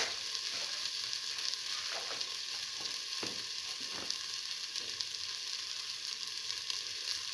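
Spices sizzling in a frying pan for an egg and split pigeon pea stew, a steady hissing fry throughout with a few soft clicks of stirring, close and alone.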